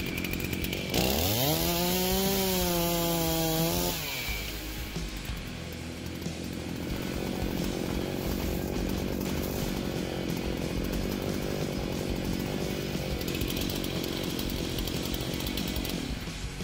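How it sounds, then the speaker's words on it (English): A chainsaw revs up with a rising whine, then bites into tree stems in a hazelnut orchard and keeps cutting with a loud, steady snarl that holds to the end. "smaller stems with the pruning loppers and larger stems with the chainsaw"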